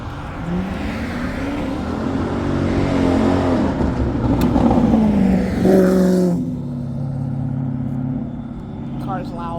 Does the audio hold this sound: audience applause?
no